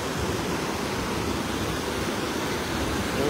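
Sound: water gushing from the Araras reservoir spillway

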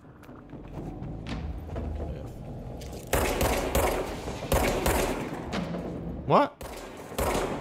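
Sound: gunfire in the video game Control

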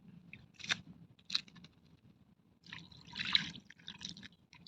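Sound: rinsing tamarind in water, pouring it off

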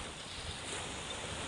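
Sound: seashore waves

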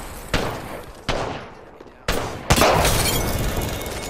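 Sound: gunfire in video game Apex Legends

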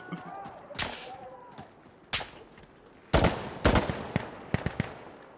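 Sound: gunfire from enemies in the video game Insurgency: Sandstorm

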